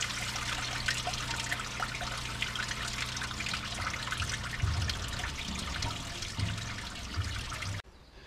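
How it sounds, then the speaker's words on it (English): Water surges through a blocked drain as it is cleared, a loud, continuous rushing and trickling flow that runs unbroken for several seconds before cutting off abruptly near the end, with no speech. "I just had a big flow of water come through that drain"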